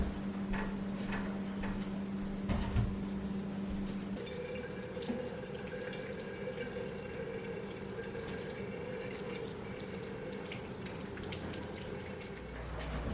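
Water spills and runs steadily in a home kitchen, a continuous close splashing stream with a faint hum underneath, no talking.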